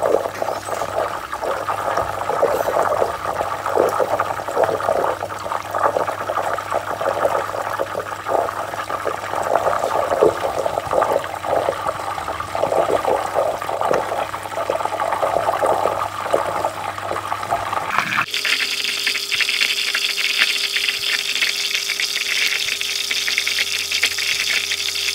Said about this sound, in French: le beurre, il est en train de se débarrasser de son eau